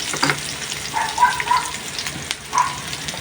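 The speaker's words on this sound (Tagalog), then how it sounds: "Gisa tayo ng bawang at sibuyas para sa chicken feet." Garlic and onion sautéing in hot oil for a chicken feet dish, a steady frying sizzle with a few brief crackles and stirring scrapes.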